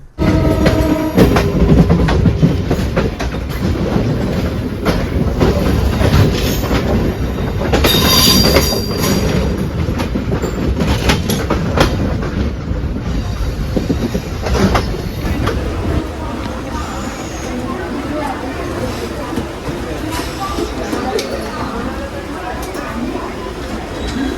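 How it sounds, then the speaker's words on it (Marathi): A crowded Dahanu-Panvel MEMU passenger train rumbles along steadily with loud rail noise, wheel clatter and brief squeals, while passengers talk over the din. "या लेजेंडरी मेमो ट्रेनचा प्रवास कोणी कोणी केला आहे"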